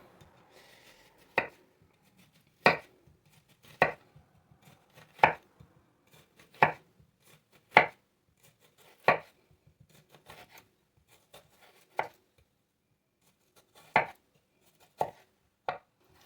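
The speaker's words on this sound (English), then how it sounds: "Then you just make your thin slices all the way down to the bottom" A knife slices through an onion on a cutting board, giving about a dozen sharp, evenly spaced chops with brief pauses between strokes, close and clear with no talking.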